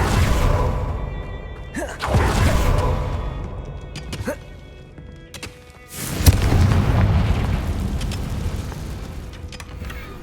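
In Hogwarts Legacy, the Confringo fire spell bursts in loud, deep booms, one near two seconds and a heavier blast near six seconds, each followed by a rumbling decay.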